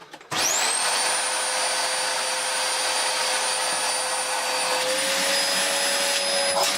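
A refurbished Dyson DC04 vacuum cleaner switches on and runs steadily, a loud, close, continuous motor whine with airflow roar and a high tonal pitch that shifts slightly near the end.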